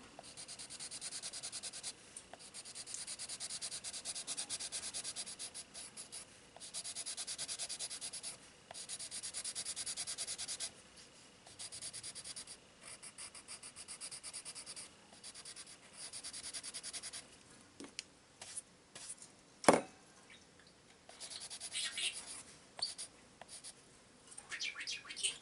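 A colorless blender pencil rubs on paper during colouring in long stretches of soft, continuous scratchy strokes with brief pauses, faint and close, plus one sharp tap near the end.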